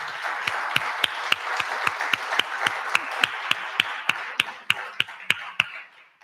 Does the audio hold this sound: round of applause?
yes